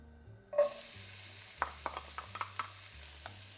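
Onion added to a hot pan for swordfish puttanesca hits the oil with a burst of sizzle. A series of sharp stirring scrapes and taps follows over a quiet, steady frying hiss.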